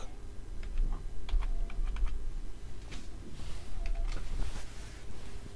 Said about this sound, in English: So I just come here, I'll type CDACC